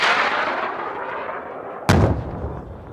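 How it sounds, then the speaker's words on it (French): French Army HOT missile fired from a Gazelle helicopter during combat in Mali: a sharp, powerful launch blast cuts in after a long rushing roar, then a booming rumble rolls on as the roar fades. "6 tirs de missiles Hot d'hélicoptère Gazelle"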